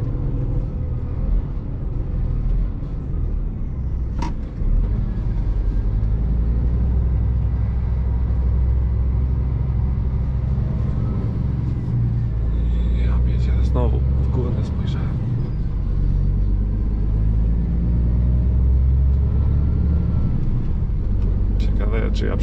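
A new Scania truck drives along with its engine rumbling steadily from inside the cab, and a brief gear-shift pause is heard, while someone talks over the noise throughout.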